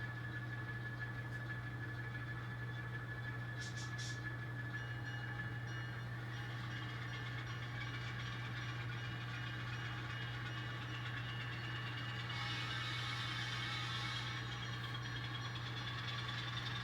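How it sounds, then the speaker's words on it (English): N scale model Norfolk Southern diesel locomotive with engine sound running steadily at low level, a constant rumbling drone with brief horn-like tones, and no talk. "Sounds like a big Norfolk Southern engine"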